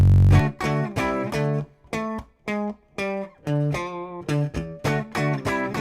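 An electric guitar plays a sequence of sustained, chord-like notes with a gritty distorted tone, each note separated by short gaps, loud and close.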